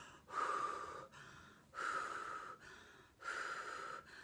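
A pregnant woman at 33 weeks imitates breathing through pain, with three long, loud, breathy exhales in a slow, steady rhythm, close up with no other sound.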